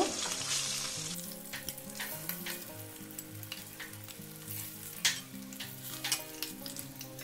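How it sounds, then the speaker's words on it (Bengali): Fish fried crisp in hot oil, a steady close sizzle with crackling pops and occasional stirring clatter, no voices. "মাছগুলো একটু এরকম কড়া করে ভেজে নিয়েছি, এবারে তুলে নেব"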